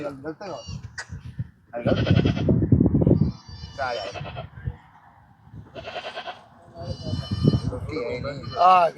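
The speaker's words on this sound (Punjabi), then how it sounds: "ਬੱਕਰੀ" A goat bleats several times in wavering cries at a livestock market before Bakra Eid, mixed with people talking nearby.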